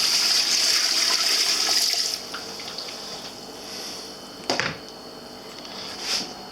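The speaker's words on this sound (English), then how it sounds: "we're going to just pour it right over the trout." Brine pours and splashes loudly over trout for about two seconds, then softer trickles, drips and a couple of sharp knocks follow in a quiet room.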